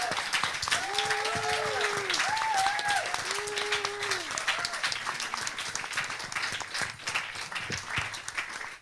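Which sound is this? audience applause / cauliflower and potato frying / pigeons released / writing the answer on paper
audience applause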